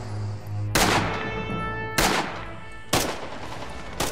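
Four sharp, loud rifle shots ring out in Red Orchestra 2, spaced about a second apart, each with a quick decaying echo over a low background hum.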